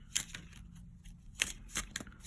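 Tarot cards being shuffled by hand, giving several quiet crisp riffling bursts at an uneven rhythm, close by and soft, with no talking.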